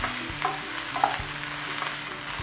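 Cluster beans sautéing in a pan with a little salt and turmeric give a steady close sizzle, with a few scraping stirs of a spatula and light clinks from the pan, and no talking.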